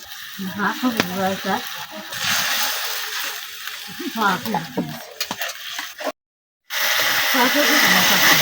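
Ground spice paste hits hot oil and sizzles in a loud, broad hiss that continues after a brief dropout. Voices talk over the frying early on.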